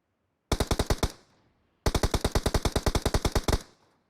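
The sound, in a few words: gunfire in PUBG Mobile video game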